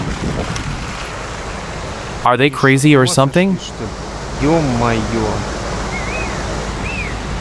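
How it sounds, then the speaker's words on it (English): Steady broadband rush of a wild river at a ford, with two rivers meeting on a mountain expedition route, filling the whole clip as a loud continuous roar while people talk over it in short bursts. "You won't cross this river."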